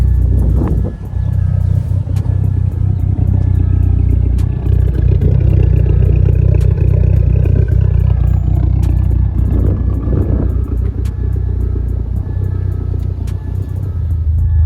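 A car engine with a new intake idles steadily at about 1,000 rpm at close range, a continuous low rumble with occasional light clatter.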